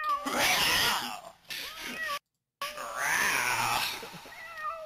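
A cat yowls loudly and close in drawn-out, wavering caterwauls, with one cry, a brief silent gap, and then a second long yowl.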